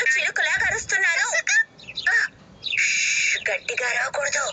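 A human voice mimics a parrot, letting out shrill squawks and warbling screeches in several loud bursts broken by short pauses, close up.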